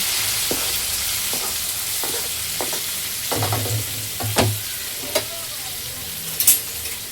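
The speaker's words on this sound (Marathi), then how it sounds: "गॅस मोठा करते आणि हे कांदा आता चांगला लाल करून घेईन, ब्राऊन मस्त." Three large onions sizzle steadily in a pan of hot oil with a cinnamon stick over a high gas flame, with repeated scraping stirs and occasional sharper knocks of the spoon against the pan.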